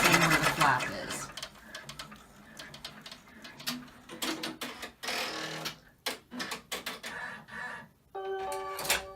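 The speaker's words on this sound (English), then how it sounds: "So just going to stitch around the edges, and then once more across the front to reinforce that front seam where the flap is." A sewing machine runs in repeated stitching bursts around the edges of a small fabric tissue holder, with short pauses between runs and a soft whirring rhythm. A few brief beeps come near the end.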